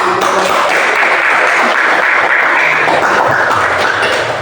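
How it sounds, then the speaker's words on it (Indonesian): A classroom audience of students claps together in steady, dense applause that holds at an even loud level throughout, close and unbroken. "mari kita berikan aplaus dulu"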